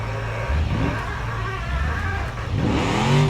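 An off-road vehicle engine in the BeamNG driving game revs and strains while climbing jungle terrain, the pitch rising and falling in close, continuous surges.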